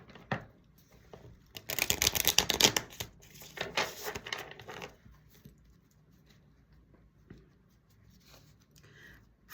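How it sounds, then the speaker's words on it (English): Tarot cards being shuffled by hand at close range, with a burst of crisp riffling and flicking in the middle between quieter soft handling and light taps. "I'll shuffle."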